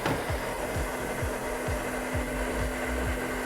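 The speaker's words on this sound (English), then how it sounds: "Take your blow dryer, have the nozzle pointing to where your brush is" Hair dryer with a concentrator nozzle blowing during a round brush blowout, a steady close whir with a faint tone, cut by repeated short rhythmic swishes as the brush pulls through the hair.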